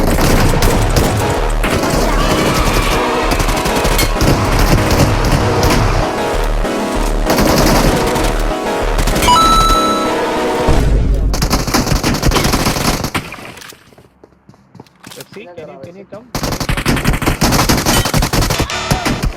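Rapid video-game gunfire from BGMI (Battlegrounds Mobile India), loud bursts of shots with booms crowding the mix, pausing briefly near the end before the firing resumes.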